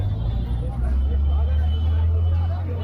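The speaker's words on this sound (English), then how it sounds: "how you cross a busy street in Delhi" Busy street traffic in Delhi, a dense low rumble of buses and engines with a tonal drone and scattered voices in the background, close and constant.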